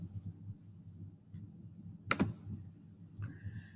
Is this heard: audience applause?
no